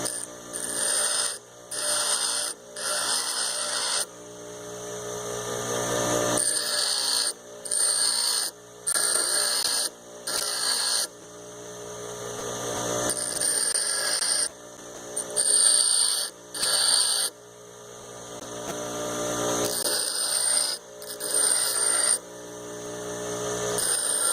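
A twist drill bit being sharpened grinds against a wheel with light pressure in repeated short bursts with brief pauses between, a steady harsh rasping whir.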